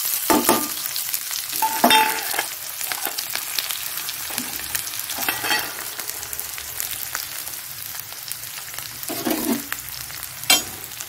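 Onion hits hot oil already seasoned with cumin and dried chili for a rajma ghugni, giving a steady close sizzle with several sharp stirring scrapes and clatters, no talking.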